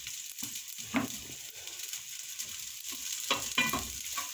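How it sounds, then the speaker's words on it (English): Vegetable fried rice made with boiled rice being mixed in a pan, with soft scraping strokes of a spoon over a faint steady sizzle, close up, with no voices. "Then I give it a good mix."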